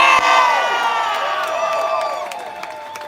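Loud, dense crowd cheering and whooping at a No Kings protest rally, with many voices overlapping in a sustained roar that slowly eases off across about three seconds.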